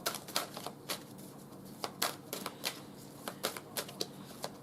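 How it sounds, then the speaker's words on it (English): Oracle cards being shuffled and pulled by hand, irregular crisp flicks and riffling snaps at close range, with soft handling noise between them. "Let's pull some oracle cards for Miss Sunmi."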